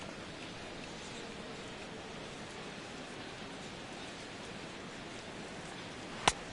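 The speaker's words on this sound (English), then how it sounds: "Well, Matt, the rain is really starting to come down" Heavy rain pours steadily at a ballpark in MLB The Show 17, a dense unbroken hiss filling the whole stretch, ending with a brief sharp knock.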